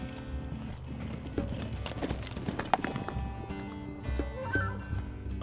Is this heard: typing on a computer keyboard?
no